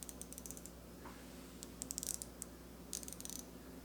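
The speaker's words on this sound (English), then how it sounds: "The back drag on this ratchet alone is absolutely amazing." A Ko-ken ratchet clicks softly as it is turned, fine rapid pawl ticks in short bursts over a low steady background hum, close up with no one speaking.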